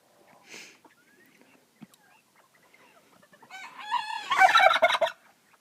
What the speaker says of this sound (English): There's a Caturnix and then some bob white.